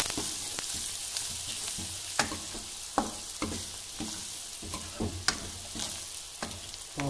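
Onion, green chili and turmeric frying in oil with a soft steady sizzle, broken by repeated spoon taps and scrapes against the pan, close and quiet, no voices.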